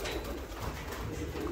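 Pigeons kept by a breeder coo softly in their loft, a faint low cooing set in a steady wash of background noise with no talking.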